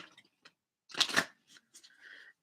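A single brisk riffle of playing cards, a quick papery flutter of snapping edges, with a few soft card taps before and after.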